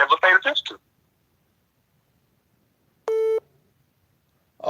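A single electronic beep, a steady buzzing tone lasting about a third of a second, signals an incoming call on a radio call-in show line, clear and alone between stretches of someone talking.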